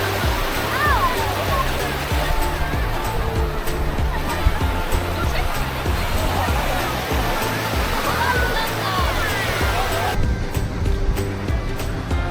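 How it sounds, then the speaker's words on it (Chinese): Ocean waves break and wash repeatedly onto a busy tourist beach in Zhoushan, Zhejiang, as a steady, loud surf roar with wind; background chatter from people blends in. "听听海风，任凭海浪一遍一遍地在脚下拍打"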